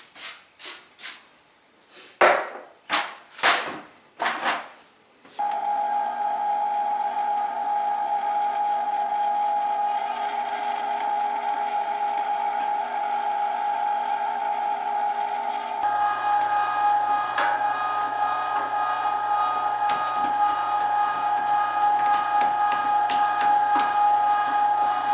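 A meat grinder runs steadily while grinding deer meat, a continuous motor drone that holds for about twenty seconds after several short clunks and bumps at the start, close and loud with no talking.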